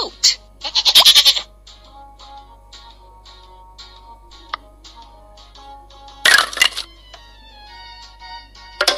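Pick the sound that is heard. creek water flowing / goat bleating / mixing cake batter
goat bleating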